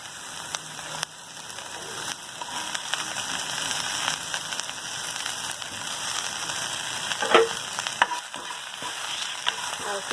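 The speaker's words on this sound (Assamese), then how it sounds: "পিঁয়াজখিনি অকণমান ভাজি ল'ম ৰঙচুৱা হোৱাকৈ" Onions fry and get stirred in a pan over moderate heat while making chole paneer: a soft, continuous sizzle with occasional scraping clicks from the spoon, close by and without speech.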